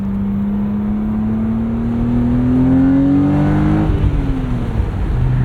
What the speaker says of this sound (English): Just want you guys to hear this S52 through the DINAN catback.